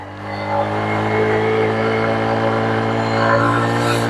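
A Honda CRF150L motorcycle carrying two riders labors up a steep hill in second gear, its engine a steady, loud, close drone with even harmonics that holds throughout without breaks.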